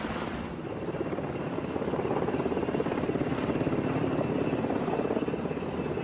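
Helicopter with the Alaska National Guard airlifting the Dante volcano explorer robot to the crater rim of Mount Spur, a steady loud rotor and engine drone that holds throughout without voices.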